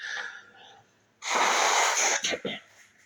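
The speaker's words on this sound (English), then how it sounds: "I'm gonna blow my nose, so don't get upset" A loud, forceful nose blow bursts out close by, followed by two short snorting honks, after a moment of quiet breathing.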